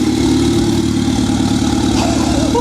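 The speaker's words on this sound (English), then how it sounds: "that is idling beautifully!" A rebuilt Toyota Sera engine idles steadily, a close, even mechanical hum with a fast regular pulse and no talking.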